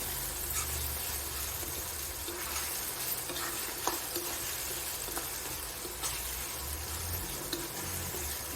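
Curry masala with onions and tomatoes fries in a pan for soya chunk curry, holding a steady close sizzle with repeated spoon stirs and scrapes and no talking.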